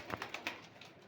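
Young pigeons in a loft give a few soft, quick cooing calls in close succession, faint and near, then trail off into quiet.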